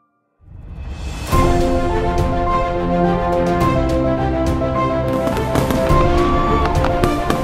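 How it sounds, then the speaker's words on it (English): Fireworks at an Independence Day celebration crackle and boom in a dense, continuous barrage of bursts, loud and sustained throughout with no talking. "including the fireworks show"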